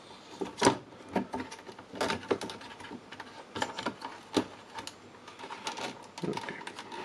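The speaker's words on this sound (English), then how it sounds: "now we can cut the excess legs" Cutters snip excess component legs off a circuit board in a Makita DC18RD double charger, a series of sharp, irregular clicks and snaps close up, quiet between cuts, no talking.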